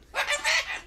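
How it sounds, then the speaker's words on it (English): Chickens cluck in a short burst of several loud, overlapping calls close by, with no talking over them. "The birds are hilarious."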